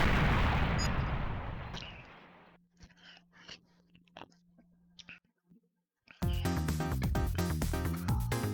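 Gunfire in a video game boss fight: a dense burst of loud shooting opens the scene, then scattered sharp shots ring out over quieter game sounds before another loud, sustained barrage erupts near the end.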